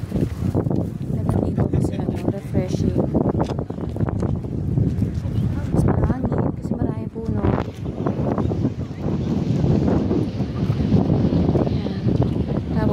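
Gusty wind buffets the microphone outdoors in Nara, Japan, rumbling loudly and continuously while people talk nearby.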